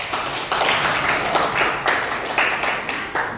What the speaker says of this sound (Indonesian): Oke, bagus sekali ya, tepuk tangan dulu ya.